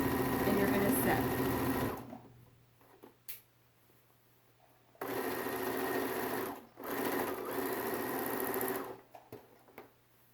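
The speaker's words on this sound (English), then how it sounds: "you're going to sew a few stitches at the beginning and then press your reverse button back, reverse a few stitches" A sewing machine stitches a pillowcase in loud, close bursts of fast mechanical whirring, stopping and starting with quiet gaps and a few clicks between runs.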